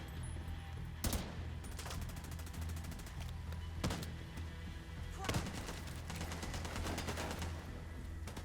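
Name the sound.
gunfire in the video game The Division 2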